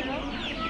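A chicken clucks at a farmyard with geese nearby, short and close, over a steady outdoor background without any talking.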